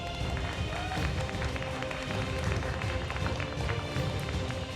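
Audience applause fills the hall at a Korean armwrestling championship award ceremony for the -90kg class, a steady dense wash of clapping throughout with crowd noise and a faint voice underneath.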